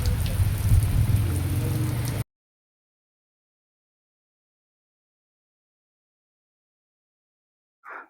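Dense, steady rain noise for about two seconds, then abrupt silence, with a brief faint sound near the end.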